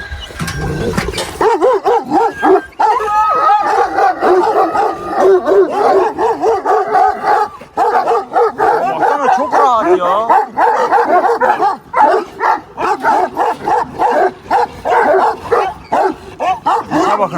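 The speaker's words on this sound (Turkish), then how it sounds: "ben hayatımda bu kadar köpeği bir arada görmedim diyor" Several dogs bark and yip close by on a farm in overlapping bursts, with voices talking over them throughout.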